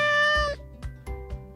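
A cat gives one clear, drawn-out meow followed by a few short, softer thumps and rustles, close and alone.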